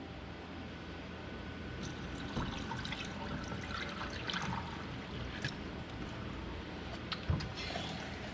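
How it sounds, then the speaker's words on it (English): Spent patina chemical solution pours down a sink in a steady, fairly faint trickle with a few small splashes and gurgles. "This is one of the few chemicals that we use that is safe to dump down the sink."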